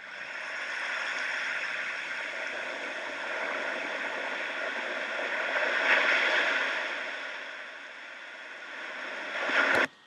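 Relaxing ocean wave sound played from a phone app, a steady, soft wash of surf-like noise that swells gently midway and near the end before cutting off abruptly.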